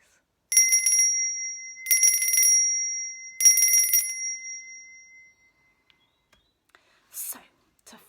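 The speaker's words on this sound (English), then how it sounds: "if you've got a little bell at home, like this one here, at that point, you can ring it like this." A little hand bell is rung in three short bursts, each a bright ringing shake that decays, followed by quiet rustling and a faint whisper near the end.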